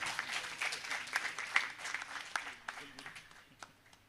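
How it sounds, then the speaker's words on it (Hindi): Faint, thin applause from a seated audience at a Hindi kavi sammelan poetry recital, a brief patter of scattered clapping that fades out within a few seconds. "इसके लिए मैं चाहती हूँ कि एक बार आप हितेंद्र जी के लिए एक बार तालियां बजा दीजिए"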